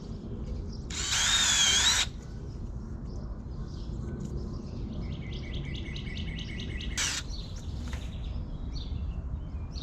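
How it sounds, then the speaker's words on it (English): A power drill bores a hole into an oak trunk for an oxytetracycline injection against bacterial leaf scorch, in two short whirring bursts, the first louder, while birds chirp outdoors in the background. "So you drill a hole, put one in."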